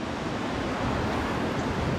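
Small waves breaking at the edge of a surf beach, a steady dense wash of surf with faint wind noise, continuous and fairly close with no voices.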